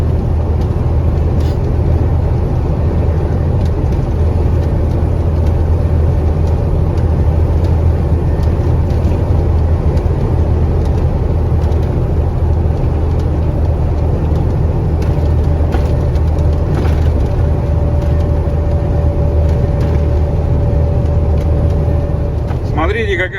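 A KamAZ 4308 truck's engine drones steadily at close range from inside the cab while driving home through snowdrifts in a blizzard, a constant low rumble with road noise running throughout, and a voice speaks over it.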